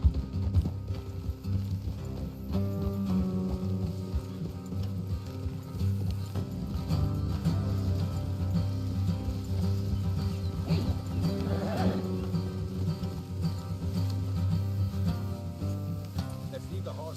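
Horses' hooves clip-clop steadily in Red Dead Redemption 2, a continuous close rhythm layered under game music and ambience, with a rider's voice speaking intermittently.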